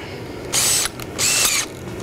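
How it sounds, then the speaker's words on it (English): Two short bursts of a handheld power drill twisting wire, whirring up close, each under half a second, separated by a brief pause. "Gonna take my drill."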